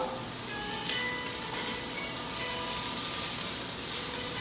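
Onion and garlic frying in sesame oil, a loud, dense, continuous hiss and sizzle up close, with a brief utensil knock near the start and no talking.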